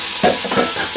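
Potatoes fry in a pan at home, a loud close hiss with a couple of soft stirring knocks over one second.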